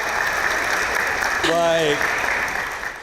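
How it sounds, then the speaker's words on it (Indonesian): An audience at a campus talk-show event claps together in a dense, sustained round of applause that fades slightly toward the end. A voice speaks briefly over it. "Oke, tepuk tangan buat semuanya."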